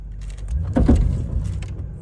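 On a Lexus being accelerated from standstill in drive, a worn transfer case chain gives a low rumbling clunk and rattle, a brief knock near the middle over a steady engine hum, close up with no talking.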